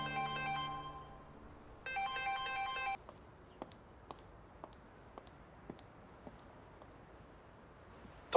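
A phone ringtone plays two bright, melodic bursts over about three seconds, then cuts off, leaving a quiet room with scattered soft taps and footsteps.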